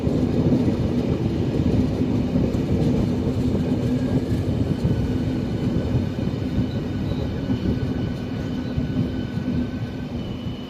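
Steady low rumble and rhythmic clatter of a train running on rails, continuous and fairly loud throughout, with no voices.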